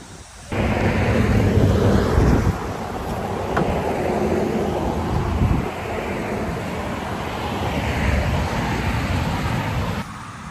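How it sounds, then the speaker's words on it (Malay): Strong wind roars and buffets a microphone outdoors, a loud continuous rushing that swells and eases over about ten seconds with no speech. "Angin betul."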